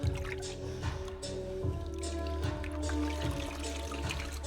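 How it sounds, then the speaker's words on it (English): Water splashes and trickles steadily on a spinning pottery wheel while clay is being centered, a continuous close wet wash under the low hum of the wheel. "I need some more water in here."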